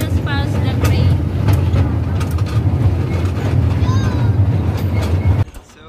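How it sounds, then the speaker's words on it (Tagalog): The toy train at Museum Junction in the National Rail Museum rumbles past on its rails with a steady low roar and clicking wheels. People talk over it until the sound drops off sharply. "Train."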